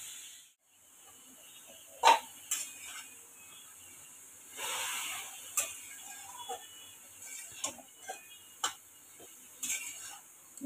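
Grated bottle gourd sautéed in ghee in a pan over medium heat for dudhi halwa gives a faint, low sizzle, broken by sharp scraping and clicking stirs at irregular intervals.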